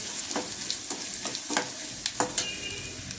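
Crushed garlic and fennel seeds fry in a pan, a soft continuous sizzle broken by several sharp spattering crackles and stirring scrapes at irregular intervals, close and fairly quiet.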